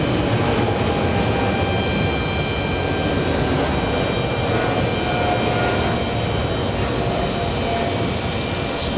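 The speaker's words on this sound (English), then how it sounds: "we have British Airways 777 catching us by surprise" British Airways Boeing 777 jet landing at JFK airport, a loud, steady broadband engine roar that holds for the full stretch, close and continuous with no speech over it.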